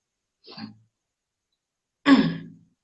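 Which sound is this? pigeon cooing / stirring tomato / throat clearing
throat clearing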